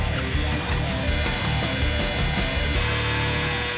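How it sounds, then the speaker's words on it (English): A milling machine cuts metal with a loud, continuous grinding whine and rhythmic chatter, the tone shifting slightly partway through, with no talk over it. "This is a milling machine, and it is going to use this bit to cut all of this metal."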